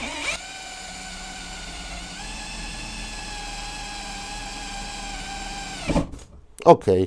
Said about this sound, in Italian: riuscito a forare senza problemi, è stato pure molto veloce, un foro perfetto